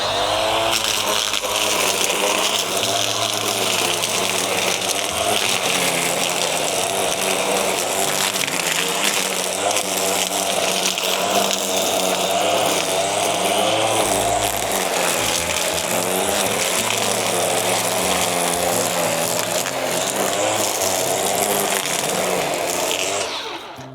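Loud, steady whine of a Bosch UniversalGrassCut 18V-26 cordless grass trimmer cutting grass on a garden plot. The motor runs continuously and close for the whole stretch, with slight fluctuations in pitch as it meets the grass and no talking.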